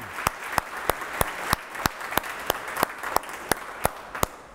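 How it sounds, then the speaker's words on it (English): Clapping at a beverage industry conference event honoring BevNET staff: sparse, distinct claps ring out at an irregular rhythm over a low room murmur, a small round of applause near the listener. "I'd just like to lead a round of applause for BevNET staff."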